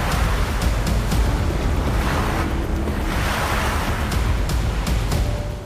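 Sea waves crashing and rolling near an island, steady loud surf with wind noise throughout, heard from a small boat circling the shore.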